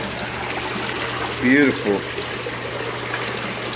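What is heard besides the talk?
pumps running water on a boat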